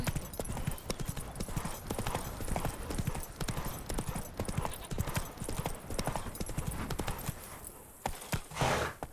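Roach, a horse in The Witcher 3, gallops with steady, rapid clip-clop hoofbeats throughout, loud and close, with a brief snort or whinny near the end.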